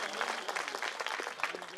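A crowd claps steadily at a Bhima Koregaon Shaurya Diwas gathering, a short dense burst of applause heard at moderate distance with some voices mixed in.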